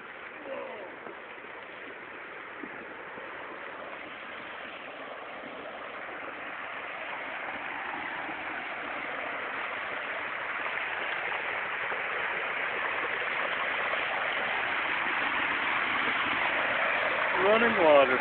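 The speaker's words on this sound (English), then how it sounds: "Running water." Water runs at a waterfall as a continuous broadband rush that slowly grows louder over eighteen seconds, as if getting closer, with no clear talk over it.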